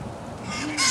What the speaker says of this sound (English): There's some pretty parrots here.